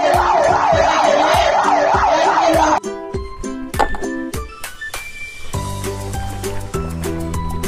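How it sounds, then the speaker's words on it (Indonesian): A toy fire truck plays an electronic wailing siren, loud and close, that cycles steadily and then gives way to tinny toy melody tones, with no talking over it. "Mobil pemadam kebakaran teman-teman."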